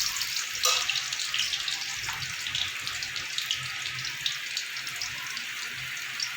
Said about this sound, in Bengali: এবার দেবো সরু সরু করে কেটে রাখা আলু। আলুগুলো ভালো করে ভেজে নিতে হবে।